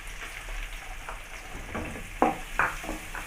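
Chopped onions sauté in a pan for a squid gravy, a low continuous sizzle with scattered stirring scrapes and two sharper clacks near the end, close and fairly quiet, no speech.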